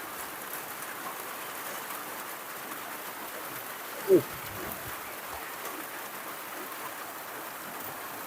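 Steady rain falls on a rural farm field in Laos where holes are dug for planting cassava. The hiss is even and continuous throughout, with one brief nearby knock partway through.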